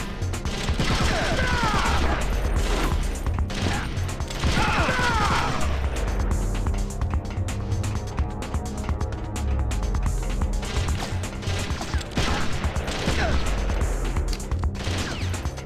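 Sustained, loud gunfire from Metal Gear Solid: The Twin Snakes on the GameCube, with dense bursts and crashing impacts running continuously through the whole stretch, layered with game sounds.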